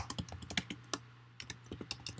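Steady close-up typing on a computer keyboard while entering C++ code, with quick irregular key clicks and short pauses, no voices.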